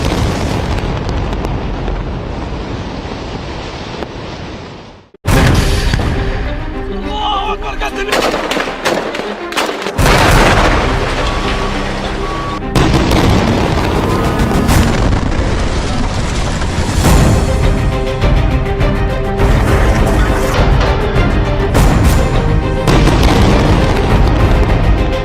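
Heavy blasts and bursts of gunfire-like cracks from Israeli army strikes on Hezbollah areas, loud and dense, with a sudden violent onset after a quieter rumbling stretch, then sustained rolling booms and sharp reports throughout.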